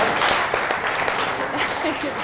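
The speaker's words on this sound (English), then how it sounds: "let's give a round of applause to our special guests here today" Crowd applause for guest experts at a live Brooks Running event, a moderate patter of clapping with a voice speaking over it.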